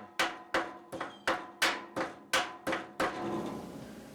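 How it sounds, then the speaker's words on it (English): A socket is struck with a hammer to seat a clip on a riding lawn mower's front spindle: eight sharp, evenly spaced metallic blows, close and loud, with a brief ringing decay after the last. "Just hit it a few times and that puts it down even."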